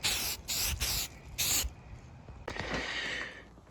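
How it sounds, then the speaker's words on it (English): Filler primer is sprayed from a can onto a Chewbacca bowcaster rifle prop: four short, sharp hissing bursts in quick succession, then a longer, fainter spray, close and loud with no voices. "Now I'm just using filler primer just to get everything covered."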